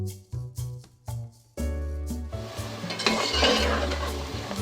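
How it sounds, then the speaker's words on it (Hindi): Onions frying for biryani: several sharp metallic clinks of a spoon against a pan, then a steady loud sizzle with stirring scrapes. "तो प्याज को मैं गोल्डन ब्राउन होने तक फ्राई होने दूँगी"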